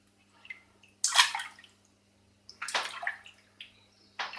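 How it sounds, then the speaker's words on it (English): Running water rinses a jar, with the threads wiped clean, in short splashy bursts: a strong gush near the start, a second rush midway and a brief splash at the end, close by. "Give that a quick rinse in there."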